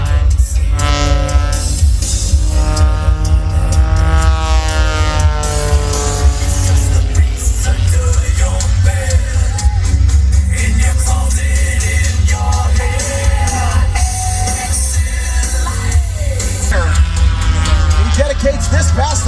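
Aerobatic aircraft tumbling across the sky at an air show, its engine roaring loud and continuous, with the pitch sweeping up and down through the manoeuvres.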